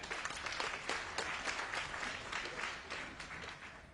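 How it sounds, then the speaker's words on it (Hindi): Dense, steady applause from an audience at a motivational seminar fills all four seconds at an even level, with no pauses and no voices heard over it. "जोरदार तालियां हो जाए"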